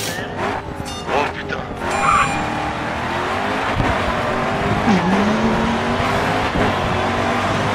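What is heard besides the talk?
car engine and tires in a racing video game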